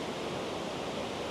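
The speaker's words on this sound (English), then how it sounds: "So this is actually coming from the waterfall." A waterfall at Krka National Park rushes in a continuous broadband hiss, steady and fairly faint, with no voices and no change in level.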